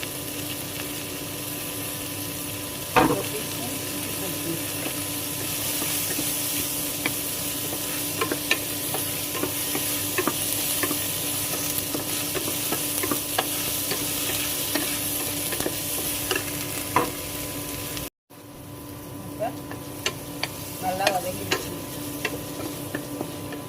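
Onions and ginger-garlic paste sautéing for a mushroom biryani masala, a soft continuous sizzle with intermittent stirring taps and scrapes, fairly quiet and close, briefly cutting out near the end, no talking.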